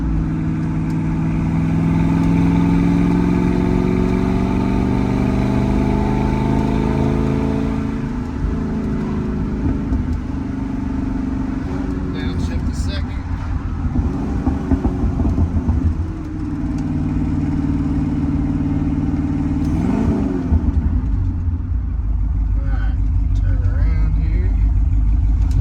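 A 1965 Ford Mustang Fastback with a 289 V8 A-code engine and 4-speed gearbox, heard from inside while driving: a loud, steady engine drone that shifts pitch as it revs and settles, with a voice talking over it.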